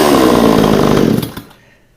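A VEVOR chainsaw engine, restarted after a spark plug readjustment, roars loud and steady at full revs for over a second, then cuts out and winds down into near silence.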